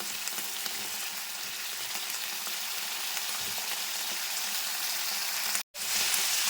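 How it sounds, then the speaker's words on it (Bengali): Vegetables with pumpkin and vine spinach fry steadily in a pan, a loud continuous sizzle with faint stirring and a brief dropout near the end. "খুব ভালোভাবে সবজিগুলো আমি ভেজে নিচ্ছি"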